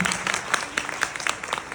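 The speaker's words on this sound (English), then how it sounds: "please give a big round of applause for the lovely children" A small group claps steadily, a brisk patter of applause close by.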